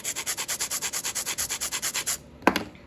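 An acrylic nail is filed in quick, even back-and-forth strokes, about twenty rhythmic rasping passes up close, then a short scrape and quiet.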